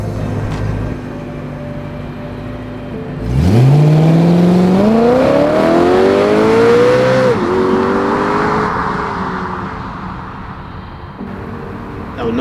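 A BMW M3 with a V8 engine pulls away and accelerates hard through rising revs, then eases off and cruises with a steady engine drone, loud and close.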